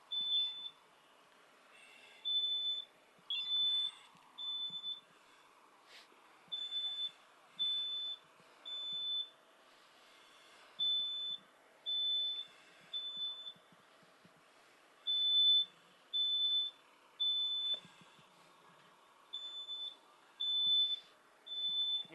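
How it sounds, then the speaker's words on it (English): A residential smoke detector sounds a repeated high-pitched electronic beep in short evenly spaced bursts over about twenty seconds, fairly faint, with quiet room noise between the chirps. "Can you guys take that smoke detector down?"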